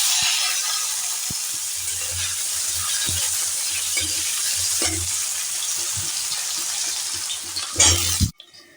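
Cut potato pieces fry over a high flame for a cabbage curry, giving a loud, close, unbroken sizzle with faint stirring taps and a brief clatter near the end.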